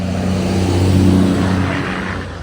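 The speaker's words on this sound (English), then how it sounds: "a massive truck just flies by, makes it impossible to hear what I'm saying" A massive truck roars past on a roadside while someone is out running, its loud engine rumble swelling and lingering close by for the whole moment before beginning to fade.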